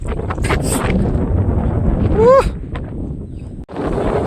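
Strong wind gusts outdoors in the Gir countryside, a loud, steady low rumble buffeting the microphone, with a brief voice partway through and a short dip near the end.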